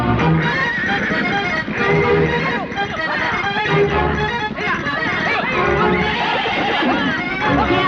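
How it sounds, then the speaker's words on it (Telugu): A wild horse neighs loudly amid hoofbeats and a busy, noisy Telugu film comedy scene, with voices shouting over it. "ఈ అడవి గుర్రం, దాన్ని పట్టడం వీళ్ళ తరమా?"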